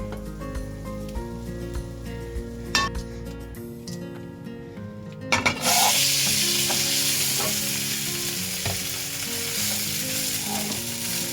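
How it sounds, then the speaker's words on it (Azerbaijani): Steady, loud sizzling of small fish (anchovies) frying in a pan, starting with a sharp burst as they hit the hot oil and then crackling continuously. "bir üzü qızarana qədər qızardırıq."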